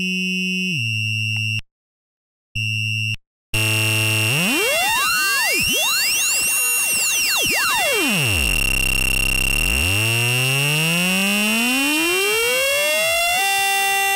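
Modular synthesizer modules produce a harsh cross-modulated tone: a few clipped beeps, then a loud continuous siren-like wail that sweeps up, dives low into a growl and climbs back, with no talking.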